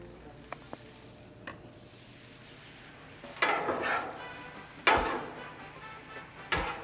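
Rice with Japanese barbecue sauce cooking on a Blackstone griddle, a soft steady sizzle punctuated by a few clinks and louder scraping or stirring bursts of the spatula on the hot surface.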